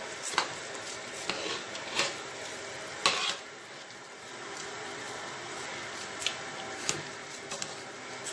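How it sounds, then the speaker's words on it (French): Rice is stirred into tomato sauce in a pot, giving wet squishing and scraping sounds with occasional sharp clinks of the spoon against the pot, close and fairly quiet, with no talk. "Je mélange complètement avec notre sauce tomate"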